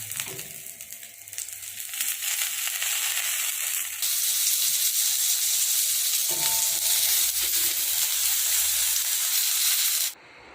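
Fish frying in hot oil in a pan, a steady loud sizzle and crackle that swells after a few seconds and holds, then stops abruptly near the end.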